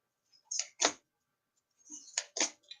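Tarot cards being shuffled by hand: two short bursts of crisp riffling and slapping, separated by a pause, close and fairly faint in a quiet room.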